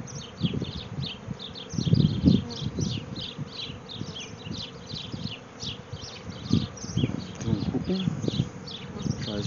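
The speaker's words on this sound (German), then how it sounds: "Die Bienen gehen immer ins Dunkel." Honeybees buzz densely as a colony crawls into a new hive. The steady swarm drone carries on throughout, with occasional low rustling and thumping bursts mixed in.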